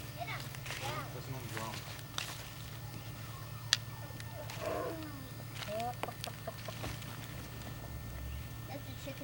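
A farm turkey drums with a low, steady hum that runs throughout, joined by scattered clucks and calls from nearby fowl, while people talk quietly in the background.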